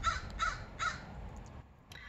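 Harsh, raspy calls of wild Puerto Rican parrots repeat three times in quick succession, then trail off into fainter squawks against a quiet outdoor background.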